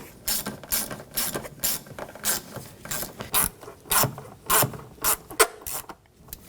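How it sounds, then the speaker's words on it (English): Ratchet tightening hose clamps on a 1995-2004 Toyota Tacoma during an idle air control valve replacement: repeated quick clicking strokes in an irregular rhythm, close and fairly clear. "We'll tighten these clamps down."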